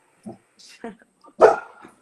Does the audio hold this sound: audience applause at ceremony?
no